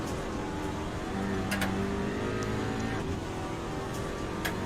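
Skoda Octavia Cup race car at Zandvoort in Assetto Corsa, its engine droning loud and steady with rising and falling pitch through gear changes, plus a few sharp clicks, with no talk over it.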